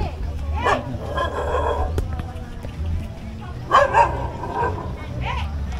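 A dog yips and barks in short bursts amid a busy outdoor scene with steady background hum, while people talk nearby.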